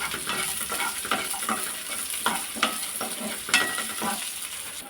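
Onions with dried red chillies and a Kashmiri chilli sautéed in a pan for a tomato-free chutney: a continuous close sizzle broken by rhythmic spatula scrapes and taps, with no talking.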